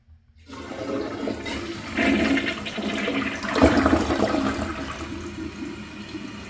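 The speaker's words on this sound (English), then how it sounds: "This one is actually one that stays open longer, so I'm going to simulate a flush." Proflo Jerritt toilet, a cheap generic model, flushing with its flapper held open for a long flush: a loud rushing swirl of water that builds and surges midway, then keeps draining steadily to the end with no talk.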